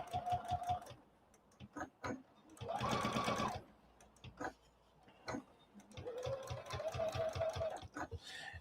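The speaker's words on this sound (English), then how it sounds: "So I'm just going to turn and stitch." Sewing machine stitching a patchwork quilt block for a Christmas tree appliqué quilt, running in three bursts of rapid even stitching with pauses between, close and loud, and a person talks during the pauses.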